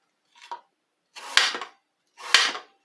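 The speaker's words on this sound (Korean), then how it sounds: "얄팍하게 썰어도 되는데 선생님은 좀 사과를 크게 먹는 걸 좋아해서 조금 크게 썰겠습니다" A knife cuts through an apple on a board in three separate slicing strokes, the first light and the next two louder and crisper with a sharp tap at the end, close by and with no talk.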